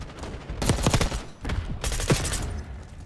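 Gunfire from the KOMPAKT 92 SMG in a shooter video game, two loud close bursts of rapid automatic fire separated by a short gap.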